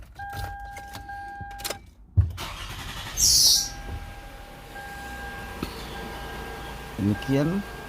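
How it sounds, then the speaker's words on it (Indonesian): A car engine cranks and catches after a DIY oil change, with a short whirring starter burst followed by a steady idle, plus clicks, thumps and rattles from someone working nearby. "Hidupin mobil."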